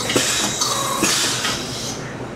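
A 3D printer running at high speed gives a brief close burst of busy mechanical rattling and whirring with quick repeated clicks and a faint tonal whine, no talking.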